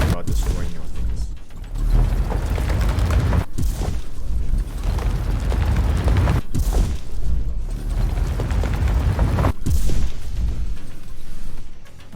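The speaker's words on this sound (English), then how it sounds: "This mole overheats like constantly." A mining mole machine in the game Techtonica grinds and rumbles loudly as it digs, with heavy mechanical churning broken by a few short gaps, while a person talks over it.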